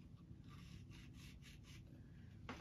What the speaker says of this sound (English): I got a piece of Scotch-Brite here.